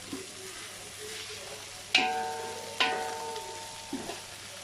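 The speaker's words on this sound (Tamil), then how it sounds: "இப்போ இது பச்சை வாசனை போகிற வரைக்கும் நல்லா கிளறி விட்டுக்கலாம்" Mint and coriander leaves frying in a pan, a soft steady sizzle broken by a few scraping stirs of a spoon against the pan, close and fairly quiet.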